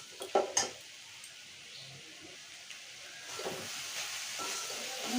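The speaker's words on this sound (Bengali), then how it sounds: "চিংড়ি মাছগুলো দিয়ে দেব। এখন আমি এগুলো ভালো করে ভেজে নেব।" Prawns fry in a pan: a couple of sharp clatters as they go in, then a quiet, steady hiss and sizzle that swells slightly toward the end, with no talk.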